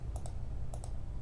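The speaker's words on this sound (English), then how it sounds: "I can just click this check mark." Two quick double clicks of a computer mouse while checking a box in AutoCAD 2021, each a light, crisp tap close to the microphone, set against a quiet low hum.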